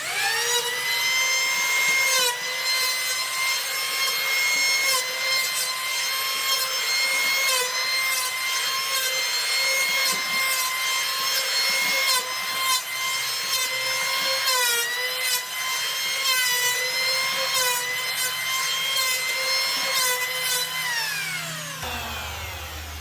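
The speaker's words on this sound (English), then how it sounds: "I'm going to turn this down to the lightest pass that I can take. And then basically we just start planing." A power planer takes light passes along an oak board for a custom desk, a loud steady whine with a rasping cut that runs almost without a break and then winds down at the end, with no voices.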